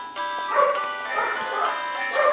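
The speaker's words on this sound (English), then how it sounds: "He's barking." A dog barking in Pokemon HeartGold, a few short electronic yaps spaced about half a second apart over steady game music, moderately loud.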